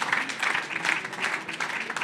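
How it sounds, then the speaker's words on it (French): A conference audience applauds after a talk on decarbonising industry in France's Grand Est region, a steady dense wash of many hands clapping that continues for the whole stretch without pause. "On peut l'applaudir aussi, bien évidemment."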